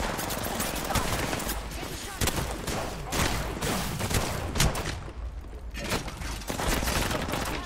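Dense, rapid gunfire from Apex Legends, loud bursts and automatic volleys overlapping almost without pause, with a voice talking underneath.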